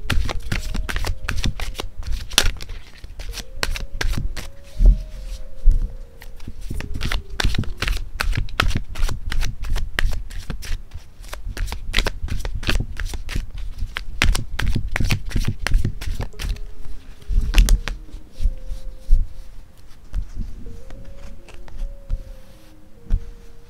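Tarot deck being shuffled by hand, a steady stream of rapid papery riffles and slaps running close and loud throughout, with a soft hum beneath and almost no talking.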